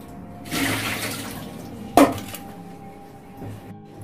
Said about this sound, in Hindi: पहले मशरूम धो लेती हूँ जल्दी से